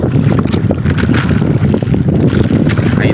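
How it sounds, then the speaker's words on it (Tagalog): Strong waves and heavy wind at sea, a dense, loud, continuous roar with buffeting gusts. "Lakas naman yung alon sa kahangin."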